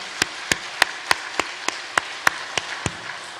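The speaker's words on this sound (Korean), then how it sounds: "우리 하나님께 영광의 박수 힘차게 돌리겠습니다" A church congregation at a Sunday evening worship service claps together in a steady unison rhythm, about a dozen sharp, evenly spaced claps in a quiet sanctuary with no speech.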